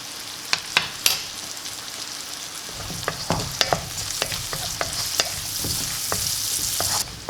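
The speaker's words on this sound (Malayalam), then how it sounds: "എന്നിട്ട് അതുകൂടി ഇട്ട് ശരിക്ക് ഒന്ന് വഴറ്റിയെടുക്കാം." Onions and soya sautéing in a frying pan, a steady close sizzle broken by scattered clicks and scrapes of a spoon stirring against the pan.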